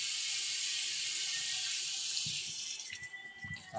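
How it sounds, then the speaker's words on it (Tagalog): Water runs steadily and loudly from a tap into a cooking pot holding bony meat for Filipino caldereta, then tapers off into uneven splashes and trickles near the end. "Lagyan natin ng tubig to para lumambot."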